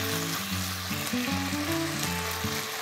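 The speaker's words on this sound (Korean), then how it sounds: "청주를 한번 넣고 센 불에 볶아주신다고 생각하시면 되세요." Sea cucumber sizzles loudly in a hot pan over high heat with a splash of cheongju rice wine, a dense steady frying hiss close up, with background music running beneath it.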